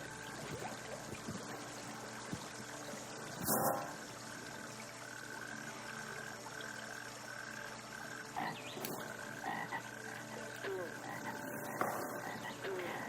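Frogs croak steadily along a mountainside stream, with trickling water beneath them and a few louder outdoor bursts.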